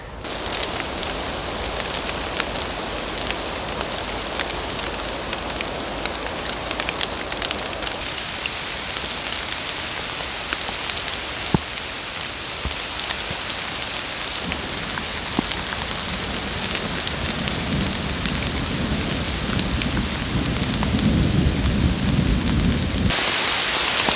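A heavy downpour pours down in a forest during mushroom hunting, with constant loud hiss of rain on leaves and ground and low thunder rumbling beneath, continuous for over twenty seconds.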